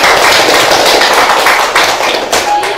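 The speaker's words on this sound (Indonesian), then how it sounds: "Kita beri aplaus untuk kelompok kulit" A classroom audience applauds a student group's presentation, loud, dense clapping close by that holds steady for the full stretch, without speech.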